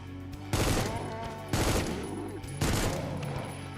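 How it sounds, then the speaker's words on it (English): Gunfire rattles out in the video game Once Human in three loud bursts of rapid automatic shots, each starting abruptly, over a low background hum. "Who's shooting me?"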